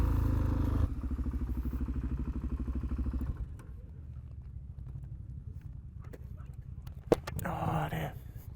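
Motorcycles rumble at a bike night, a nearby engine pulsing loudly before dropping to a lower idling throb, with a sharp knock and a brief louder rush near the end and possible faint voices.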